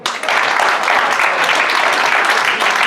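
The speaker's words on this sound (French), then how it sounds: "Bravo, on peut les applaudir." A sales promotion crowd breaks into loud, dense applause, a continuous close roar of clapping that starts abruptly and holds steady.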